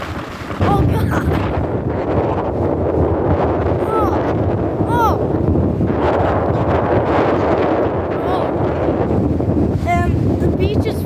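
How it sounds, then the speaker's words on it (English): Strong wind gusts buffet the microphone on a beach along a bay at North Cape May, a loud continuous rumble with roaring surges throughout, while people talk and exclaim over it. "And it's very windy."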